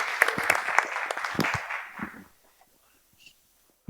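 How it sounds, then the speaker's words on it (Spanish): Audience applause at a business event in Ceuta, a burst of sharp, close hand claps that thins and fades out after about two seconds, leaving near silence with a faint stray sound. "Un fuerte aplauso para ellos."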